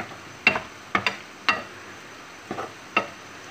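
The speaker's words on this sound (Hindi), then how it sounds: "फ्राई कर लूँगी चिकन तो अच्छा सा पक जाएगा" Chicken frying in a pan, a low sizzle broken by several brief clicks and taps of a utensil against the cookware, spaced irregularly.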